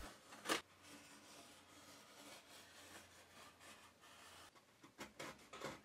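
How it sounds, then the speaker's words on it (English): A knife scores wood along a steel ruler while a housing is deepened by hand, giving faint scratchy strokes, one sharp rasp at the start and a few short scraping passes near the end, quiet and close. "I use my knife and steel ruler to deepen the edges"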